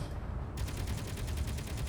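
Rapid automatic gunfire from a ship firing back in the game Space Engineers, a fast, steady stream of loud, repeating shots starting abruptly and continuing without pause.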